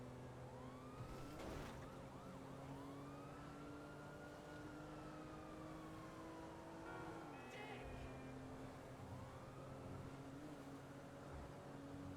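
Wailing police sirens rise and fall across a city in Grand Theft Auto V, several overlapping tones sweeping steadily over traffic rumble, loud and continuous for the whole stretch.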